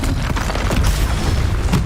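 Confringo blasting spell explosions in the Hogwarts Legacy video game, a loud, continuous rumbling boom with dense low thumps and crackle filling the whole moment.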